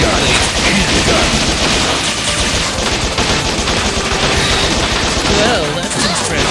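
Relentless, loud handgun fire from the action video game Bot Vice, shots packed so tightly they merge into a continuous crackling barrage with crashes and impacts mixed in.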